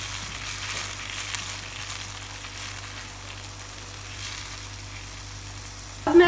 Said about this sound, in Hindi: मुसलसल में चम्मच चलाती रहूंगी।